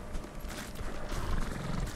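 Horse in the video game Ghost of Tsushima, with steady hoof clip-clop and a brief whinny over a dense, busy in-game backdrop, fairly close and moderately loud.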